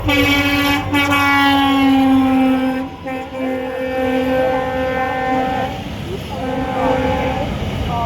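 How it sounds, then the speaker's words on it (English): A fast train roars through platform 2 of an Indian railway station with a loud, sustained horn blast and rumbling wheels that continue for several seconds. "Platform number 2 fast train is passing."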